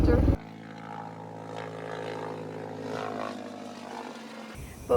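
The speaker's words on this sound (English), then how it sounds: "Here comes a helicopter." A helicopter passes overhead near a mobile home yard, its rotor drone holding a steady, humming, tonal roar for several seconds at moderate loudness.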